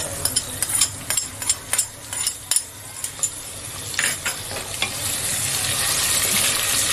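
Eight crushed garlic cloves sizzle in hot oil in a pan for a potato and cluster bean curry, with a spoon clinking steadily as it stirs, and the frying hiss rises toward the end.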